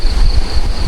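Wind gusts through window shutters of a sleeping hut in Mondulkiri, a loud, rumbling rush buffeting close to the microphone with a steady whistling tone on top.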